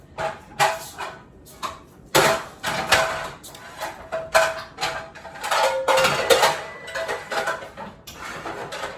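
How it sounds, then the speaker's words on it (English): Dishes being put away in a kitchen: repeated clinks, clatters and knocks of plates and utensils, irregular and close, some sharp and loud, with softer rustling between and no talk. "I was putting up dishes."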